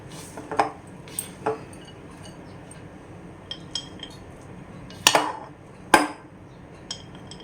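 A utensil scrapes and clinks against a pan while mixing sabudana khichdi with coriander, several separate sharp metallic taps with quiet gaps between them.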